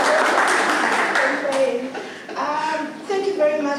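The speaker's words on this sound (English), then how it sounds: "Please give him another round of applause." Audience applause at a digital rights and inclusion forum, dense clapping up front that thins as voices talk over it near the end.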